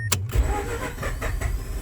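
A Mazda RX-8 rotary engine cranks briefly and catches, settling into a steady rumbling idle close by, with no talking over it.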